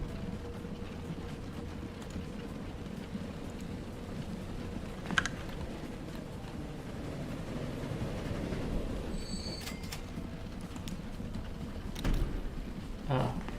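Passenger train rumbling along the track in the Transport Fever 2 simulation, a steady low drone with a few brief clicks and knocks, while someone talks over it.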